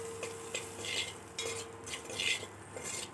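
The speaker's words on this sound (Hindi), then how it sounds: "चम्मच चलाते रहिए" A spoon scrapes and knocks rhythmically against a pot while bottle gourd and peas cook, close clinking stirs over a soft steady sizzle.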